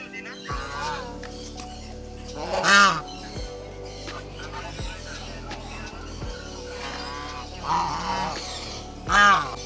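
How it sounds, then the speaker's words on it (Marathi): Chinese geese and ducks give a few loud, brassy honks, two standing out near the middle and end, over a steady background of other calls, with brief human chatter mixed in. "इथे चायनीज गूस, बदक. चायनीज बदक आहेत हे."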